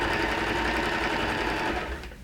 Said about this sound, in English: I'm just going to sew, switch on the machine